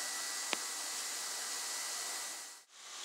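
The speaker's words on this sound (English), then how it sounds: "Let me get this thing welded out." A steady, hissing welding noise holds for about three seconds while a handle is welded onto a steel trowel, with a brief sharp pop near the start and a short dip near the end.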